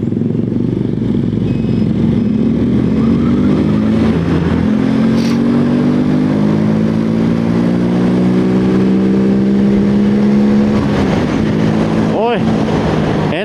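Yamaha Jupiter Z1 motorcycle engine revving high in third gear on a new gearset ratio, a loud continuous drone with rising and falling harmonics as it accelerates, close and steady with no pauses.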